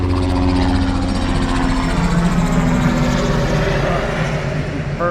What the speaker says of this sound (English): birds scattered because the helicopter was so low